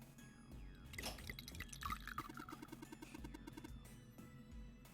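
Liquid poured in a puzzle escape video game, a steady trickling and dripping stream with small splashes lasting most of the span, moderately loud and alone without talk.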